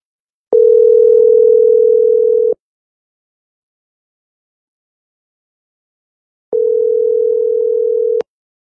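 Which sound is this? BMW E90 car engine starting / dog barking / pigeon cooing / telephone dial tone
telephone dial tone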